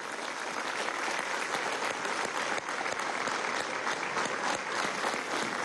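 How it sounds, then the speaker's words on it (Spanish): A crowd applauding the people of Venezuela at an outdoor political event, steady dense clapping that holds at an even level from start to finish, with no voices over it. "pido un aplauso al pueblo de Venezuela"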